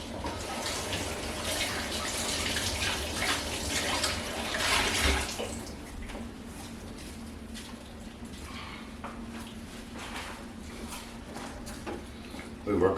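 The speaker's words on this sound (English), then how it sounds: "But let's rinse these off real quick." Vegetables are rinsed under a running kitchen tap. A loud, steady rush of water lasts about five seconds, then eases to a softer, uneven trickle and splash, ending with a brief clunk.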